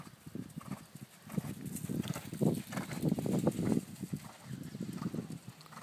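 A horse in working trot gives rhythmic, moderately close hoof clip-clops in an even two-beat pattern, swelling and fading slightly as it moves around an arena.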